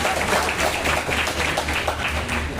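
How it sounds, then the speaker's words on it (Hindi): Audience applause at a women's empowerment and honour ceremony in Amroha, a steady, loud wash of many people clapping together throughout, with faint voices mixed in. "तालियां एक बार जोरदार बजाते रहें"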